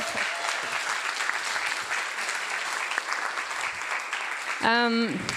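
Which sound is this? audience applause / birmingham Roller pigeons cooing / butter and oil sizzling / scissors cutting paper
audience applause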